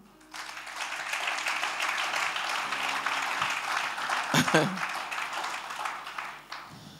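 A church congregation claps and cheers in praise during a service, a sustained wash of applause and voices with a louder swell of acclamation near the end.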